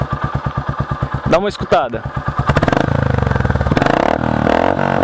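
A Royal Enfield Meteor 350 motorcycle engine starts with a chugging idle, then revs up and holds a steady, loud drone close by, with someone speaking briefly over the early part.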